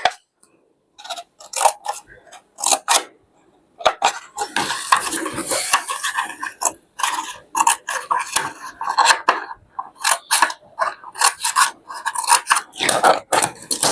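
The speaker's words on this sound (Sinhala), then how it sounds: "මේ විදිහට කොටස් කපන්න ඕනේ." Scissors snipping pieces of material for a craft project, repeated sharp crisp cuts in irregular bursts with short pauses, close and fairly loud.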